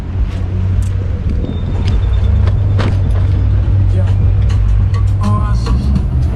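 A car drives along the road ahead while an electric scooter chases it at full throttle, steady road rumble and wind roar throughout, with a few faint knocks.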